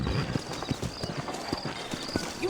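Horse hooves clip-clop in a steady trotting rhythm within the Red Dead Redemption western video game, close and clear, with a faint background murmur and a brief snort.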